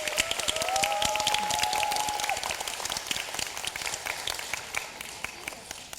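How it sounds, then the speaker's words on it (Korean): Applause fills a hall after a high school team debate final, many hands clapping fast and steadily, fairly distant and soft, gradually thinning toward the end, with a faint tone ringing briefly early on. "수준 높은 토론을 보여준 양 팀에게 다시 한번 뜨거운 박수 부탁드리겠습니다"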